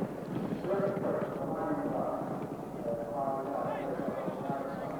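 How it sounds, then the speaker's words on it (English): Racehorses in a 1989 handicap steeplechase gallop downhill, their hooves making a steady drumming clip-clop in the distance while a race commentator talks over it. "as they run downhill for the first time from Langham Dyer and Hardy Lad"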